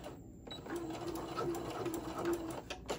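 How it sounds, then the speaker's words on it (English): Sewing machine running steadily as it stitches fabric for a small scrunchie, a continuous close mechanical whir with a light rhythmic needle patter throughout. "And just keep sewing."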